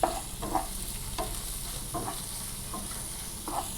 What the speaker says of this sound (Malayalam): വെളിച്ചെണ്ണ ഒഴിച്ച് കൊടുക്കുക, സവാള ഇട്ട് കൊടുക്കുക, കറിവേപ്പില കഷ്ണം വെട്ടിയതാണ് കേട്ടോ, അതും കൂടി ഇട്ട് കൊടുത്തിട്ടുണ്ട്. എന്നിട്ട് നന്നായിട്ട് ഒന്ന് വാട്ടിയെടുക്കണം